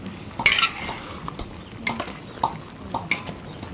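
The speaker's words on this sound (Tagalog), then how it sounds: "Akin na pong hahaluin po" A ladle scraping and clinking inside a cooking pot while fiesta food is stirred, with sparse metallic taps and scrapes over a low background hum.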